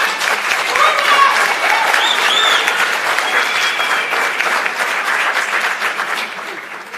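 Sustained applause from an audience at a colloquium on electricity, dense steady clapping that stays loud throughout and tapers slightly near the end, with a few voices faintly mixed in.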